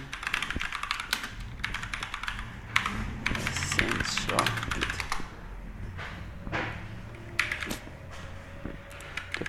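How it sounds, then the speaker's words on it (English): Rapid clicking keystrokes on a computer keyboard while entering a terminal command, in uneven bursts with a person talking over the typing. "Open the terminal and type sudo apt"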